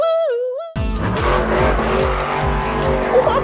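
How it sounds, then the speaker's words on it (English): A monster truck engine revving hard after a brief synthetic whooshing tone, with throaty repeated rev surges and tire-squeal-like screeches, loud and close, no talk. "Did you hear that? Sounds like a monster truck."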